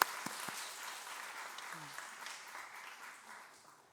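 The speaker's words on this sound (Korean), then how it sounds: "우리 축복의 박수 보내드리도록 하겠습니다" Applause during a Sunday church service, a congregation clapping to welcome young members: steady, moderately loud clapping with a few brief voices mixed in, tapering off toward the end.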